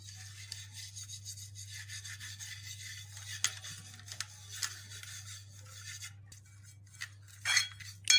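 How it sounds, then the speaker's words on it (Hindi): Oil is rubbed over a cake pan with a brush or fingers, a soft, steady scratchy rubbing with a few louder strokes against a low background hum, close and quiet. "इसमें ऑयल की ग्रीसिंग कर लेंगे।"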